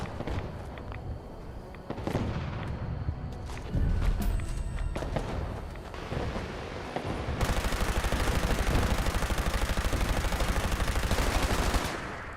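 Rapid automatic gunfire from a weapon in a video game with heavy recoil rattles loudly in sustained bursts, the later stretch a dense continuous stream of shots, with game footsteps and movement noises beforehand.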